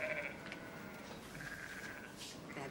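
Sheep bleat in a snowy, wintry field beyond a window, giving a few soft, distant cries over steady low background hiss, one at the start and others partway through, with no talk.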